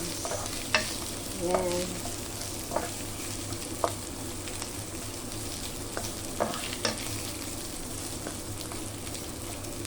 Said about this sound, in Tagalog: haluin lang natin guys. Para lumabas ang kanyang aromatics ng ating white onions